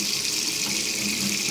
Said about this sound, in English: And let's give it a shower.